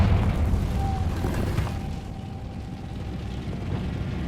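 Confringo spell explosion in the Hogwarts Legacy video game, a loud fiery boom with a rumbling burst that tails off over a few seconds.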